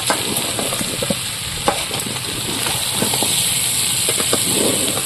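Country chicken coated in ground spice paste fries in a pan with a loud, steady, close sizzle and hiss, broken by occasional soft stirring taps.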